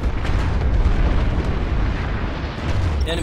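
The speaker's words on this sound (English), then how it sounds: "Enemy sunderer destroyed." A Sunderer vehicle blowing up in the video game Planetside 2: a loud, sustained rumbling blast that fills the whole clip with roaring low-end noise, then a small crackle at the very end.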